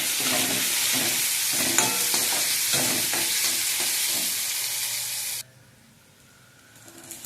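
Chopped onions and green chillies, with cumin seeds and bay leaf, sizzle loudly in hot oil while a spatula stirs them in steady strokes, then the frying cuts away sharply to near quiet.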